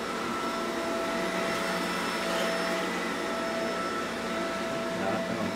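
A vacuum cleaner runs with a steady, continuous whirring drone throughout, fairly loud and unchanging. No one speaks.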